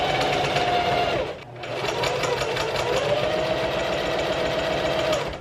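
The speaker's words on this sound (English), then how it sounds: "But now it's time to sew these bad boys together." A sewing machine runs at a fast steady pace stitching hoodie pieces together, loud and close, with a brief pause partway through before the motor picks up again.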